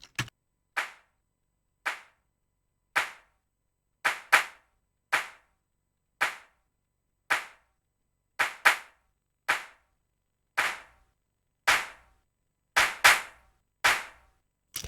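Clap track isolated from a music mix, sharp dry handclaps in a steady repeating rhythm, about one every second, sometimes doubled, with silence between hits.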